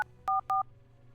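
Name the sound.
telephone number being dialed, video game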